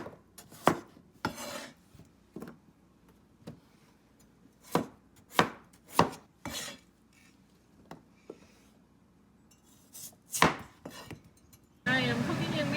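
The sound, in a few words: knife cutting food into pieces on a board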